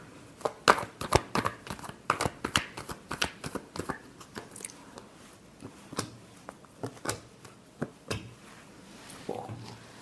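A deck of tarot cards being shuffled close up, a steady run of crisp riffling snaps and papery slaps that thins out toward the end.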